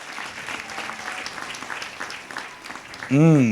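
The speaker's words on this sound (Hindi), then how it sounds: "जोर से ताली बजाएंगे।" A church congregation at a Sunday service applauds in a broad, steady wash of clapping, and a voice breaks in loudly at the end.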